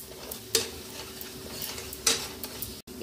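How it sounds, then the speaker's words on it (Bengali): Chicken is mixed with salt and turmeric in a pan, a low sizzle under two sharp scraping stirs of a utensil against the pan and light clinks. "দিয়ে এইবারে এটাকে ভালো করে এটার সঙ্গে মিশিয়ে দেব।"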